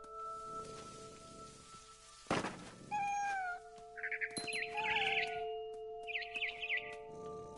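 A cat meows in the game What Remains of Edith Finch: a single clear, close meow, followed by quick bird chirps over a soft sustained musical background.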